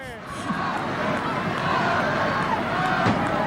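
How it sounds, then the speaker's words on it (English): Arena crowd at a 1989 WWF pay-per-view wrestling show in the UK chanting for Hogan: a loud, continuous roar of massed voices with rhythmic chanting throughout. "The chant of Hogan again."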